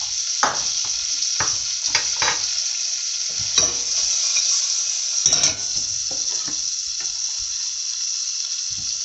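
Butter sizzles in a hot pan of warmed pilau rice, a steady bright frying hiss running throughout with scattered louder crackles and stirring scrapes, close by and with no talk.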